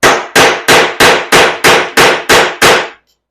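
A knife is hammered through a nail with the work resting on bouncing wood. Nine loud, sharp metallic strikes come at a steady, quick rhythm up close, then fall silent.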